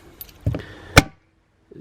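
A small key turns in the lock of a motorcycle top case, giving a brief metallic jangle, a sharp click near the midpoint and a faint tap at the end. The sound is close and quiet, with no talking.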